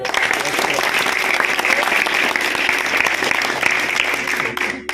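Audience applause at a school farewell function for matriculation students, a dense, steady wash of clapping holding loud for about five seconds before tapering off at the end.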